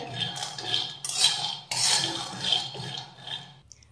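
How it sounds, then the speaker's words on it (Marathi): Peanuts roast in a pan over a low flame, stirred with a dry rattling scrape that rises and falls in several close, rhythmic sweeps. "मंद आचेवर हे शेंगदाणे खमंग असे भाजून घेऊयात।"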